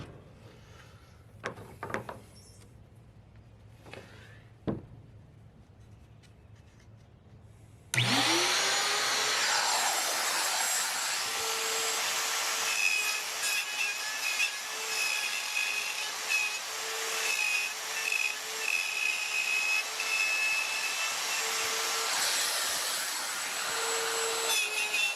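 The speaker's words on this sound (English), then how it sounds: "set the router depth and we're going to see what it does, taking the rest of it off at once" A wood router bites into a cabinet, its steady high-pitched whine roaring in loud and unbroken for most of the stretch after a few quiet knocks and handling sounds.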